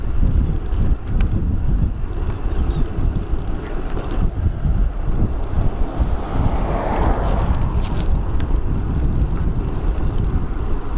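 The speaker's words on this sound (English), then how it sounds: "It is funny how the wind comes from every direction out here." A strong crosswind on an Oak Island lighthouse cruise buffets the microphone with continuous loud, gusty rumbling that swells and dips over a faint rushing background.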